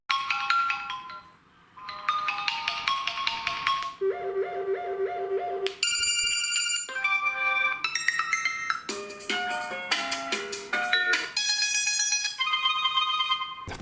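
A Sony Xperia XA2 Ultra Dual smartphone playing a sequence of bright, loud ringtone melodies through its speaker, changing tunes every second or two, with no talk.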